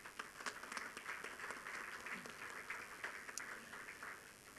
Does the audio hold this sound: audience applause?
yes